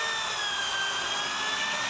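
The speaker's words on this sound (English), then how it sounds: "Okay, it's drilled through the top of the steel tube." A 6-axis robot drills through a steel square tube welded beneath an aluminum plate, producing a continuous high-pitched whine with steady tonal lines over a constant machine hiss, with no talk.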